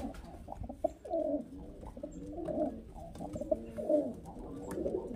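A female highflyer pigeon coos up close in a steady series of soft, throaty rolling calls, repeating at a regular rhythm with no talk over them.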